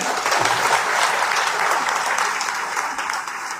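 An audience at a district party executive meeting held in a wedding hall bursts into loud, dense applause that holds steady before easing off slightly toward the end.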